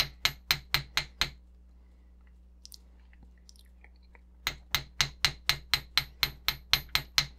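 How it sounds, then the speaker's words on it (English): Steady metallic hammer taps on wire against a metal block in quick even succession, pausing for a few seconds of near silence with faint handling noises, then resuming at the same brisk rhythm. "I'm going to hammer it all the way around"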